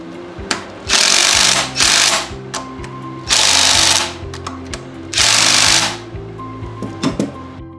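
A power tool drives bolts on a TYM T25 tractor's rear remote valve body, giving four loud, roughly one-second rattling bursts separated by quieter clinks and handling noises.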